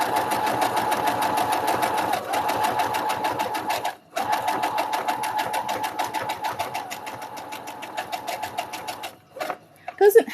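A sewing machine runs a short back stitch on a hoodie, its fast steady needle rattle loud and close, pausing briefly near the middle and trailing into a few clicks at the end, with a voice speaking over it.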